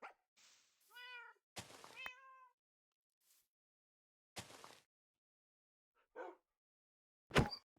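In Minecraft, a cat gives several clear meows, one of them drawn out and rising, spread among brief gaps of silence and sharp percussive game clicks and thumps.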